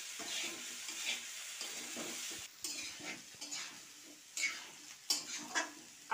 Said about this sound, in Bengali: আলুগুলো আমি বেশ ভালো করে সুন্দর করে কষিয়ে নেব।